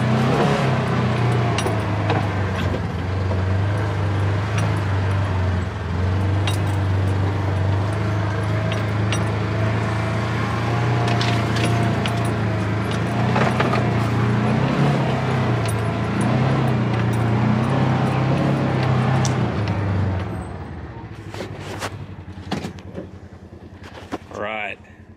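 A side-by-side off-road vehicle drives through wooded terrain with a steady droning engine hum and wind noise, loud for about twenty seconds before dropping away to quieter rustling and clicks.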